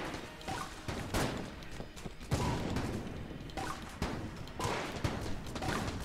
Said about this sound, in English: That string of shots from the machine gun.